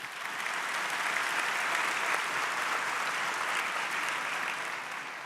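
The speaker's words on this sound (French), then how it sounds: "On peut l'applaudir." Steady, even applause from an audience at a corporate plenary session in France, a dense wash of clapping that swells in and holds for several seconds without talk.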